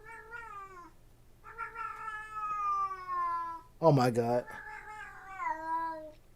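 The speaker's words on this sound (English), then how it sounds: "my cat's crying because I'm not giving her attention" A pet cat cries insistently for attention, with long drawn-out meows rising and falling close by, one louder strained wail in the middle, while a person speaks briefly over it.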